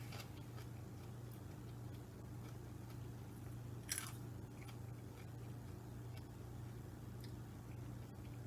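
A raw baby string bean is bitten and chewed, giving one short, sharp crunch midway, quiet against a steady low hum.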